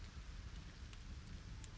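Steady rain falls in the Lego Fortnite video game, a continuous even hiss with a low rumble underneath, holding at moderate level throughout with no voices.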